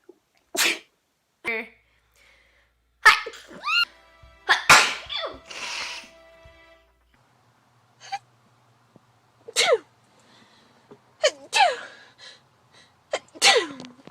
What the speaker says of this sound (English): My God, I'm still sneezing.